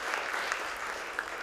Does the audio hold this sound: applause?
yes